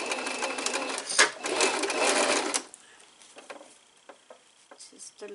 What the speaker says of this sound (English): Just a little bit of reverse just to secure the stitch, and we keep going all the way down, all the way to the bottom.